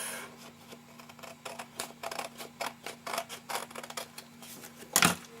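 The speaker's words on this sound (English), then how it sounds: "I'm going to cut the excess off." Scissors snip and slice off excess paper from a handmade birthday scrapbook layout, a rapid series of crisp close-up cuts with a louder final snip at the end.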